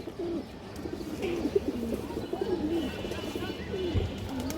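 Pigeons coo softly and repeatedly, several rolling calls overlapping close by against a low background murmur.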